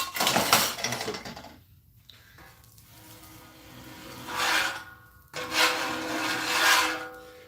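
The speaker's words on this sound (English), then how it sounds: "this part of it is loud. You know, scraping the griddle." A metal spatula scrapes a cooking griddle in bursts of loud, harsh rasping, with quieter pauses between strokes; nobody speaks.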